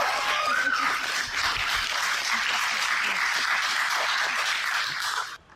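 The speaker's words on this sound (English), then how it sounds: "Give her a round of applause." A convention audience applauds a cosplayer in a costume, with loud, dense, continuous clapping close by that holds steady for several seconds and then cuts off abruptly.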